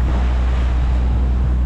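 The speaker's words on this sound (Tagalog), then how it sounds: "Alon ng habagat" Waves whipped up by the southwest monsoon (habagat) pound a small boat at sea near Limasawa Island en route to Cebu City, a loud, unbroken rushing roar thick with wind buffeting on the microphone.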